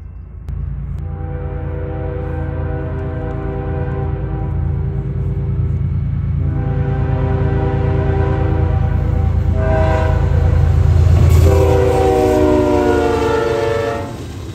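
Norfolk Southern eastbound freight train 264, Chicago to Ayer, Massachusetts, passing close in northern Ohio: a loud multi-chime horn sounding in several long blasts over the heavy rumble of the rolling freight cars.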